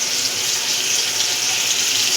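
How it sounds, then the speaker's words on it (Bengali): Water pours into a pan of spice paste made from cumin, coriander and turmeric powders, chili and salt, a loud, continuous splashing rush with no break. "এটাকে আমি এর মধ্যে একটু জল দিয়ে"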